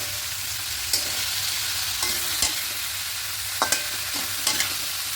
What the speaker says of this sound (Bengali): খুব ভালো করে সমস্ত কিছু মিশিয়ে নিয়েছি